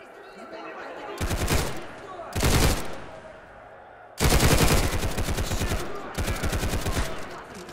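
Loud bursts of rapid gunfire in S.T.A.L.K.E.R. in several volleys, separated by brief pauses, with faint background noise between them.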